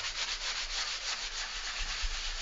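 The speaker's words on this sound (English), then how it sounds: "this stuff sands absolutely beautifully. It sands like nothing else" Hand sanding grain pore filler on birch plywood, a continuous close, even gritty rubbing with a faint back-and-forth rhythm, no voices.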